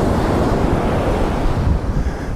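Sea waves wash continuously beneath the Golden Gate Bridge in San Francisco, a loud, rough surf roar mixed with gusty wind buffeting the microphone, with no voices.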